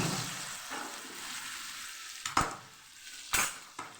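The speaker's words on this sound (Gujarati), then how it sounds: "અહીં આપણે બે મિનિટ થઈ ગઈ છે હવે ખોલીને આપણે પાછું હલાવી લઈશું" Marinated okra sizzles steadily in a pan, with a few sharp scrapes and clinks of a spoon stirring it.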